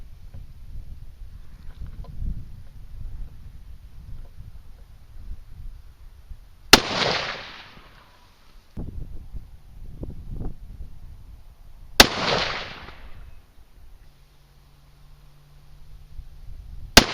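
Rifle shots are fired over a chronograph while load-testing a Varget charge: three sharp, loud cracks come several seconds apart, each with a brief decaying tail, separated by quiet low rumble and handling noise.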